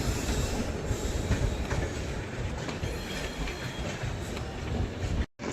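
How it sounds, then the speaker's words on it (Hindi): The Kamakhya Katra Express rolls past with a steady, loud rumble and rhythmic clickety-clack of wheels over rail joints, with faint squealing, continuous until a sudden brief cut near the end. "कामाख्या कटरा एक्सप्रेस।"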